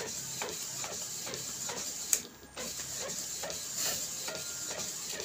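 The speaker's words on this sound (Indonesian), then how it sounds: "pada printer Epson" An Epson L3110 inkjet printer prints a photo on 180 gsm photo paper with Bulk Ink 003, giving a steady mechanical whir with rhythmic ratcheting carriage passes and a brief clunk partway through, close and alone.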